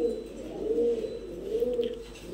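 Punky pigeons, silver and zebra-patterned, coo in a low, steady, rolling murmur at close range, with soft swells and no talking.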